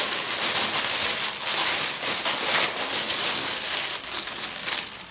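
Close, loud crinkling of a plastic bag, continuous rustling and crackling with uneven bursts as it is handled.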